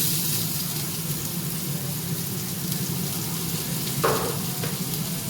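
Onions frying in a pan on the stove, a constant close sizzle with a brief clink of a utensil near the end.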